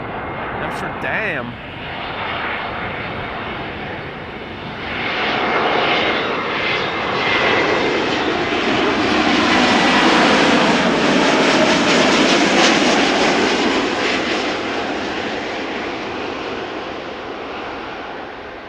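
A JetBlue jet airliner arriving from Boston at Amsterdam Schiphol roars past in a long, loud engine rush that swells to a peak midway and slowly fades, with someone speaking near the start.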